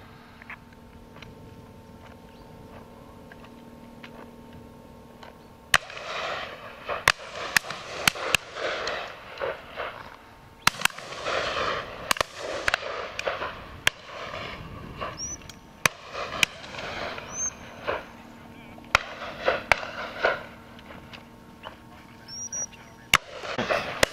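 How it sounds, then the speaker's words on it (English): Shotgun shots at a pheasant and partridge shoot in a Dorset valley, a string of sharp cracks at irregular intervals, some near and some distant, over outdoor background noise. "A bit of shooting up in the neck of the valley."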